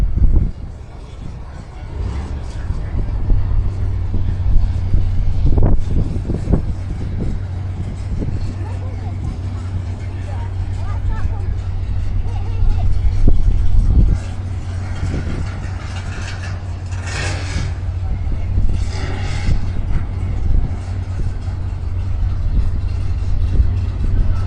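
Drag racing doorslammer cars, including the Dark Revenger and other 9-second cars, rumble at a strip with engines droning and surging near and far, while an announcer talks over the noise throughout.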